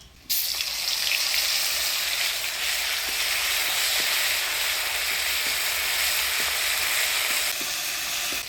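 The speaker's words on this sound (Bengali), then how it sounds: "গোটা জিরা মৌরি তেজপাতা এবার দিয়ে দেব ধইনা জিরা আদা বাটা" Whole cumin, fennel, bay leaf and a ground coriander-cumin-ginger paste hit hot oil in a village kitchen, bursting into a loud, steady sizzle that holds for several seconds with occasional small pops.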